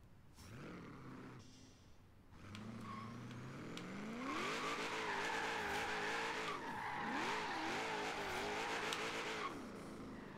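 In a video game, a Jeep drifts with long, loud tire squeals and skidding over a steady revving engine, the squeal rising and bending in waves for several seconds.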